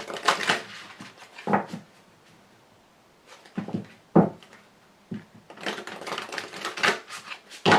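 Oversized tarot cards being shuffled by hand, with rustling, slapping bursts in irregular clusters separated by short quiet gaps, close and fairly loud with no talking.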